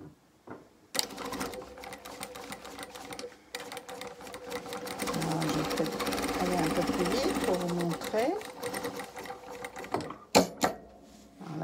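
A Jack A5-WQ industrial sewing machine runs in steady stretches, a fairly quiet mechanical whir that rises and pauses while a person talks over it.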